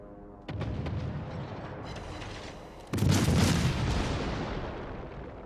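Warship guns firing shells in World of Warships from a Nürnberg cruiser: two heavy booming salvos, the second louder, each followed by a long rumbling decay.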